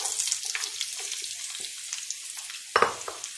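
Four to five tablespoons of palm oil heating in a pan on medium-low, with a soft, crackly sizzle and scattered pops, plus a louder clatter near the end.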